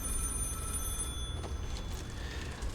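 A telephone rings in the video game White Shadows, a steady electronic bell tone sustained over a low rumbling game ambience, fairly loud throughout with no talk.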